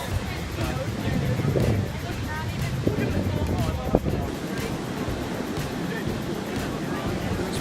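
Steady roar of ocean surf on the Costa Rican coast, breaking waves washing continuously with wind buffeting the microphone, while people talk faintly nearby.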